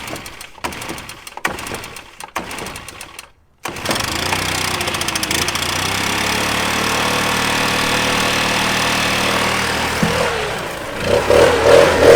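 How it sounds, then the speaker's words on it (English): A backpack leaf blower engine starts after a few seconds of scattered clatter, then runs at a steady, loud drone, climbing in pitch and volume near the end. "let's get out the backpack blower."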